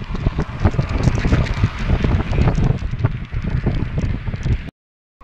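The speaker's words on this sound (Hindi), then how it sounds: "बहुत ही ज़्यादा हवा चल रहा है," Strong wind gusts across an open spot during the rainy-season floods in Dhemaji, buffeting the microphone with loud, uneven rushing and flapping that cuts off abruptly near the end.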